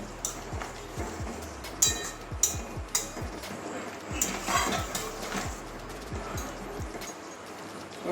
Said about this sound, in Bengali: গরম মশলাটা মিশিয়ে নেবো ভালো করে